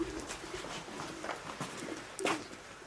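Soft, low pigeon coos repeat a few times, close by, over quiet background noise.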